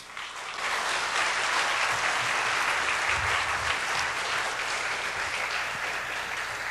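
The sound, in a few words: audience applause welcoming a speaker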